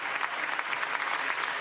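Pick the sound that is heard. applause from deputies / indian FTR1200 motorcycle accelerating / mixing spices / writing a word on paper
applause from deputies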